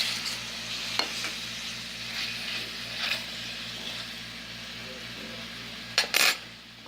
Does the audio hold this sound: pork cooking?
yes